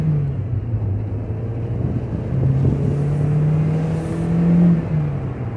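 A Volkswagen Golf IV Cabrio accelerates, its engine droning in a steady low hum that climbs gradually in pitch, heard from inside the car with constant road noise.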